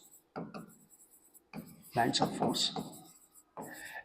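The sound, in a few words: writing on a board while teaching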